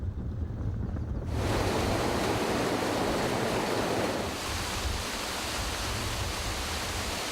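Water rushing through the Ouidja river dam that serves western Accra: a loud, steady broadband roar that swells in after about a second and holds without pause, with no voices.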